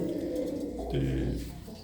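Pigeons kept by hobbyists in Salempur Masandan coo softly and low, a steady murmur close by under faint background noise.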